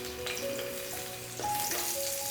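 Two chopped green chillies frying in a tablespoon of hot refined oil in a kadai, a steady close sizzle with a brief louder hiss midway as they settle, no voices.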